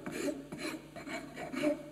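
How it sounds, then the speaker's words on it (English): A rasp or file worked by hand across a wooden handle to take off ridges left by a spokeshave, about four short rasping strokes in an even back-and-forth rhythm, close and quiet, with no talking. "This just takes off the ridges left by the spoke shave now."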